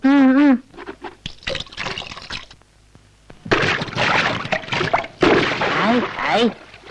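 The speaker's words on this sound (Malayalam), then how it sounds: "ഇങ്ങനെ വെള്ളം കലക്കിയാലോ കുട്ടികളെ" Water in a muddy-bottomed bathing spot is stirred and splashed, with bursts of broadband sloshing in the second half, while voices talk and call out over and between the splashes.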